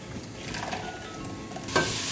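Peruvian mountain herbs fry and sizzle in a pan for Pachamanca while being stirred, a steady close crackle with a brief louder scrape of the spoon near the end and no talking.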